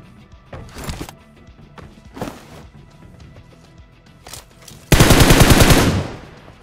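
M416 assault rifle fire in PUBG, a few short bursts followed by a loud, sustained rapid-fire volley of around a second and a half, close and dominant.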